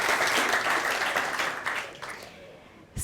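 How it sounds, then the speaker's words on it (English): An audience claps together, the applause strong at first and gradually dying away over a few seconds, ending with a brief knock. "Can we give you a round of applause?"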